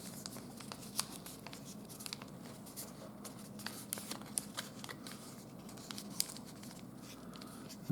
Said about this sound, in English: Fold it down.